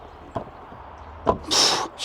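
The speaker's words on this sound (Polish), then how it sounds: "Dźwięk otwierania i zamykania drzwi." Car door on a 2018 Volvo XC60 D4 opening and shutting: a couple of short clicks and a firm thump, then a brief hissy rush of sound, fairly close in a quiet setting.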